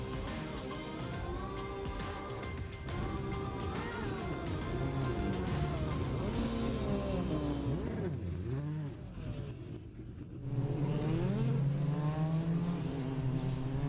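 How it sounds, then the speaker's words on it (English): Open-wheeler race cars of the GT Australia Formula Open Series running on track at The Bend Motorsport Park, engines droning with shifting pitch, rising and falling, then a louder climbing engine note near the end. "Cars on track for the GT Australia Formula Open Series, a fantastic makeup of open-wheeler race cars"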